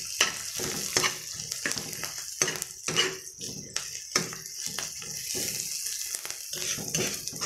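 Food sautéing in a pan sizzles and crackles steadily, with irregular stirring scrapes and clatters throughout, close and fairly loud.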